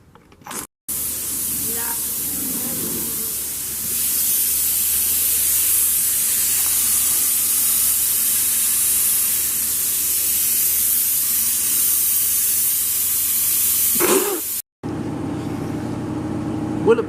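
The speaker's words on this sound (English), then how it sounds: "we'll get this thing spraying" A spray gun lays tractor paint onto a Mazda Miata inside a makeshift 10 by 10 tent booth with an exhaust fan, giving a loud, steady, continuous hiss for about fourteen seconds that stops abruptly, with faint voices at the edges.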